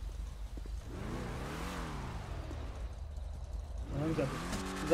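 Engine revving in a racing video game at the start of a Toyota Supra race, a steady mid-pitched drone with rising and falling sweeps that grows louder near the end.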